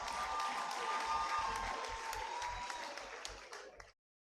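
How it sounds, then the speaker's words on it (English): Applause from an audience at a high school graduation ceremony, a steady wash of many hands clapping that rolls on for a few seconds and then cuts off abruptly. "Please give them another round of applause."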